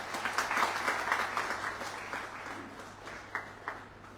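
An audience at a village gathering with the city police commissioner claps for a sarpanch. Steady, moderately quiet applause runs throughout, with a few louder individual claps near the end and no talking over it.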